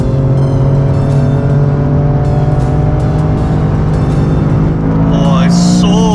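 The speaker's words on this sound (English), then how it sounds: "I can hear that engine screaming" A Toyota GR Yaris with a 1.6-litre turbo engine runs hard around the Sepang circuit, its loud, steady in-cabin engine drone rising in pitch under acceleration while a voice talks over it.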